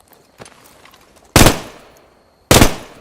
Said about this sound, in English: Okay, I can fire a machine gun.